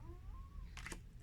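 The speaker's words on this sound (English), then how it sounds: "That was my cat yawning." A domestic cat yawns close by, a faint, soft, drawn-out vocal squeak that rises and falls, followed by a brief breathy rustle in a quiet indoor room.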